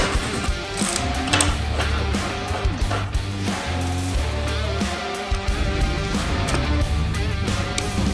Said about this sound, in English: Time to wrench.